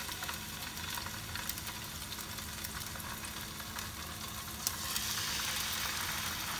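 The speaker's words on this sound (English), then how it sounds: "So I'm gonna just singe it right here." Salmon fillet seared skin-side down in a hot, dry pan with no added oil, giving a steady close sizzle and crackle that swells slightly louder near the end.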